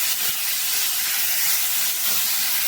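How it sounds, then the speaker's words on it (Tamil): Tomatoes and onions sauté together in a hot pan, giving a loud, continuous, close-up hiss of sizzling with no voices. "தக்காளி வதங்கிட்டோம்"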